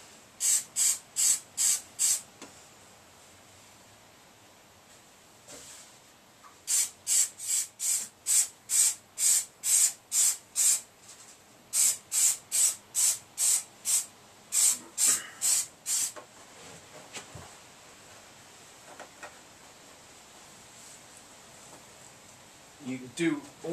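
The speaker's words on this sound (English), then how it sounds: "First on with spray glue." An aerosol can of spray glue hisses in rapid bursts, several quick sprays in a row, repeated in three clusters with short pauses between, up close in a quiet garage.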